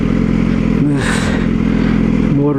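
A Yamaha R6 sport motorcycle engine running close and loud, with a steady idle rumble that rises briefly in pitch twice as the throttle is blipped.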